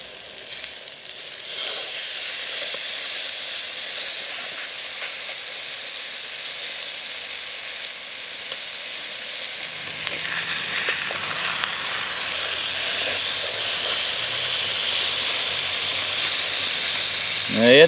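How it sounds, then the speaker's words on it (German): Onions sizzle steadily in a pan on a camping stove outdoors, a continuous close hiss that grows a bit fuller partway through, with faint low rumbling and clatter toward the end. "sollte ich mal meine Zwiebeln umrühren"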